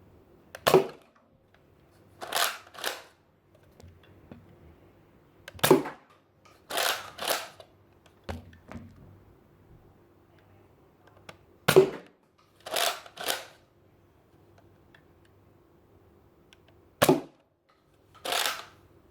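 A Nerf DL44 blaster fires Star Wars foam darts from its four-dart internal magazine, giving sharp, close snapping pops in small clusters separated by quiet pauses.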